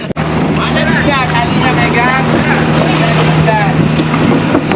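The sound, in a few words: ferry ride from Bali, engine and water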